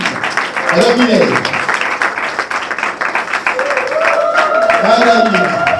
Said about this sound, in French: l'assistance, nous prions d'applaudir pour la réalisatrice